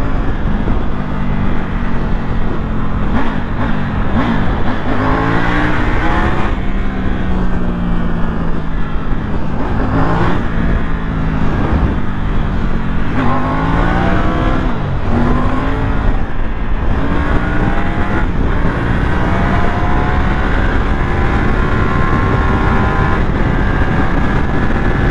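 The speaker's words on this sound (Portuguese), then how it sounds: "olha como essa moto sobe" A Triumph Tiger 900 motorcycle engine revving hard and straining up a slope, its pitch repeatedly rising and dropping as it climbs, loud and close throughout.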